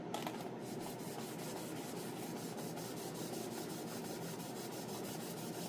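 Wet sanding of clear coat on a Farmall 450 tractor, a faint, continuous rubbing and rasping scrub with a steady even texture and no talking.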